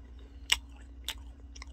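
A slightly burnt roasted marshmallow with a crisp shell crunches in close, quiet bites, three sharp crackly chews spaced about half a second apart over a low background hum.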